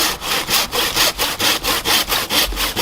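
Hand saw cutting through a pre-bonsai tree trunk, a close, steady back-and-forth rasp with about eleven even strokes in quick rhythm and no talking.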